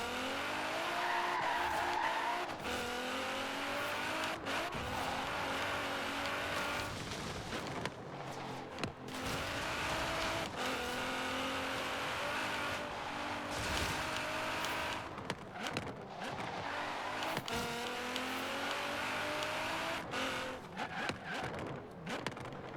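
Race car in the Forza Horizon 3 racing game braking hard and skidding, with a loud, steady engine drone and rising and falling tire squeal running throughout, no talk.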